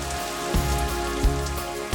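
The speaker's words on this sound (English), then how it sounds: "the next wave of cold rain hit and got heavier and heavier" Heavy, cold rain pours steadily onto a lake surface in gusty weather, a dense close hiss of drops with a few heavier thumps, probably from wind gusts, and no voices.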